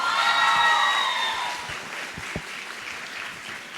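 Audience at a CBSE school graduation ceremony applauds, loud and dense at first with some cheering, then tapering to lighter scattered clapping over a few seconds.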